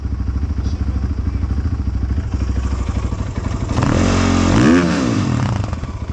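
A Geon GNS 300R twin-shaft motard motorcycle engine idles with a rapid chugging beat, then revs sharply and loudly before dropping back, heard close up with no talking.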